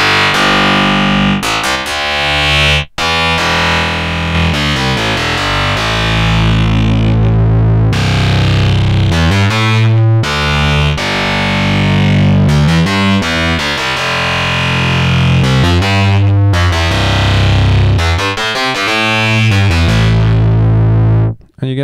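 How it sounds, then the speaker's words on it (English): A Karplus-Strong plucked synth tone on a DSI Pro 2, pushed through heavy distortion, plays loud fuzzy bass-like notes in a continuous stream with a few brief gaps. "And of course, we can bring up distortion like before."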